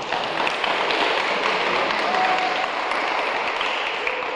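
Audience applause at a local summer sports tournament award ceremony, steady dense clapping filling the hall throughout, with faint voices underneath.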